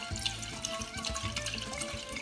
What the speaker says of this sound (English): So we're just gonna start by pouring in the wine.